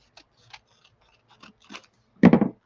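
Scissors snip paper for a handmade flip pocket in a craft project, a few quiet cuts followed by a louder run of quick snips, with no talking.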